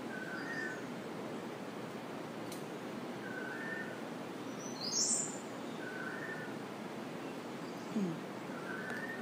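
Soft, repeated bird whistles come at regular intervals over a steady hiss of background noise, with a brief brighter chirp midway.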